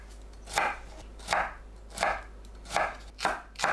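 A knife cuts cucumber into thin strips on a cutting board, giving five crisp, evenly spaced chops close up with short pauses between them and no talk.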